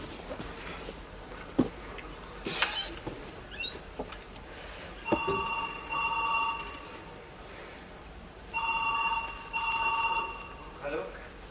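During a Marathi stage play, a telephone rings in two separate sustained bursts while voices and stage noise carry on around it.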